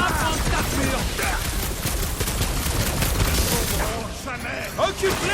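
Rapid, dense gunfire rattles continuously through a busy Guardians of the Galaxy game battle, layered with voices talking over the shooting and occasional booms.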